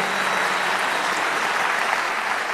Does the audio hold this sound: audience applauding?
yes